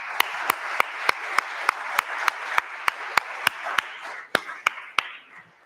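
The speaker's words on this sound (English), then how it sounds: "Please, a warm round of applause for Beth Noble, our soloist, and Kevin Kokel" A small church audience applauds after a sacred music program with soloist and organist, sparse claps over a soft wash of hands, a few sharp distinct claps standing out before it tapers off.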